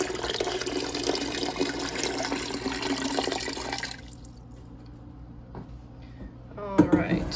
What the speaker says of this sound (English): put them in the canner over there and fill it with some water